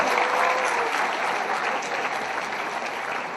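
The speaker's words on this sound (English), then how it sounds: "Round of applause" An audience at a film school convocation ceremony applauds with a steady wash of many hands clapping, moderately distant and fairly quiet, with no voices standing out.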